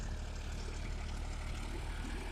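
A John Deere 5305 tractor engine drones steadily in second gear at about 1600 RPM, pulling an 11-tine cultivator at full depth through a field, a constant low rumble with no break.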